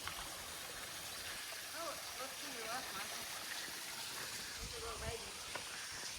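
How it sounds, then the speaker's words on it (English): Water spills steadily from a small waterfall in the Arkansas Ozark mountains, a constant close rushing hiss with faint birdsong chirps threading through it. "Little baby waterfall."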